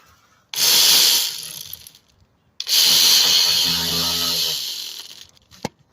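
Two bursts of ratcheting as a wrench tightens an alternator mounting bolt on a 2016 Kia Sorento, each a loud, close run of rapid clicks lasting about a second and a half, separated by a short pause.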